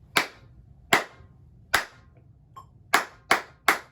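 Students in a music class clap a written rhythm together, seven sharp unison claps spaced unevenly with a short pause in the middle, loud and close with no talk.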